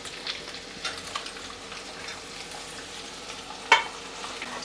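Chopped onion fries in oil in a pan for Saoji chicken sukka, a steady soft sizzle beneath intermittent spoon scrapes and a sharp clink near the end, close and moderately quiet.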